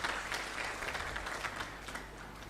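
Audience applause at a religious lecture by a Muslim cleric, a steady wash of clapping from a crowd that holds at even loudness for the whole stretch, with no voices heard over it.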